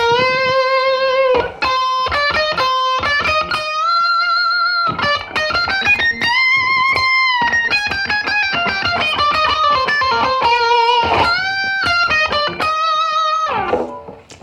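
An electric guitar plays a melody with singing, sustained lead notes and bends. It sounds close and loud, with light distortion and no speech.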